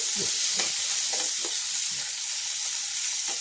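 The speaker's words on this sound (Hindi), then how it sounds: "अब इसमें जरा सा हम घी डालेंगे।" Ghee melts into an ivy gourd (kundru) curry in a pan, giving a constant bright hissing sizzle, close and even, with a few soft stirring scrapes beneath and no voices.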